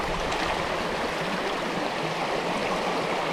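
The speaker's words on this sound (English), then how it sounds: "the sluice isn't running real good, but I'll take it" Steady rushing water pours through a gold sluice box at a Northern California site, the box not running at its best; a continuous broadband wash of flowing, splashing water, close and even throughout with no voices.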